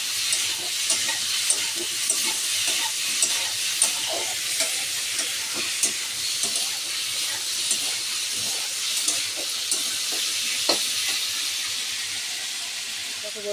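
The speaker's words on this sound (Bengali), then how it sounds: "এবার এটাকে সুন্দর করে ভেজে নেব" Potato peel and pointed gourd mash frying in a pan, a steady sizzle and hiss with intermittent scraping clicks of stirring throughout.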